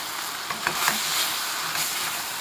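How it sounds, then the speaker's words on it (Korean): Kimchi and pork stir-frying in a pan, giving a steady close sizzle with a few soft scraping stirs and no speech. "이제 볶음 김치를 만든다는 생각으로 잘 휘저어주세요"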